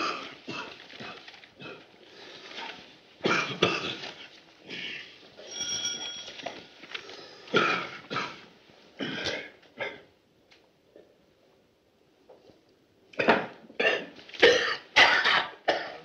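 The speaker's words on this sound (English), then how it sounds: "He's been coughing like that all day." A man coughs in repeated bursts of harsh, hacking coughs and throat clearing, close by, with short quiet pauses between clusters.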